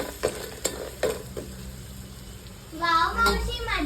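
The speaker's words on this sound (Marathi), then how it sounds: "आणि कुड्या खेकडे साफ केलेले टाकायचे आणि हे परतून घ्यायचं चांगलं" Cleaned crabs are stir-fried in oil, with a soft sizzle under scraping and clinking stirring strokes that come in irregular bursts. A voice is heard briefly near the end.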